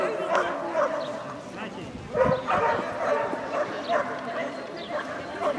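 Dog yipping and barking with whimpers at an outdoor fun sports relay event in Krasnoye Selo, repeated excited calls at moderate distance amid crowd chatter and voices.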